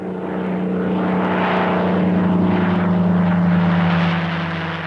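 A Gee Bee R-2 racing airplane drones steadily overhead, its propeller engine a loud, sustained hum with a faint rise and fall as it passes.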